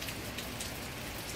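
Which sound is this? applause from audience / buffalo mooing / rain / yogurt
rain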